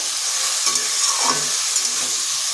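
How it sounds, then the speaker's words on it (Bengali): Potatoes and ridge gourd fry in a pan for jhinge posto, a bright steady hiss of sizzling oil with a few soft stirring scrapes, close and with no one speaking. "এরপর আলু আর ঝিঙ্গাগুলো বেশ কিছুক্ষণ এইভাবে ভেজে নিতে হবে।"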